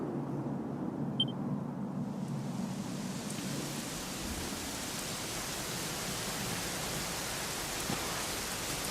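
Steady rain pours down in a dense, even hiss in the video game Dragon Quest XI, with a low rumble fading early on and no voices.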